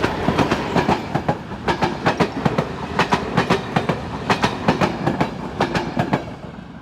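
Czech diesel locomotive 754028 hauling a passenger train passes close by with a steady, loud clickety-clack of wheels over rail joints in rapid rhythmic pairs.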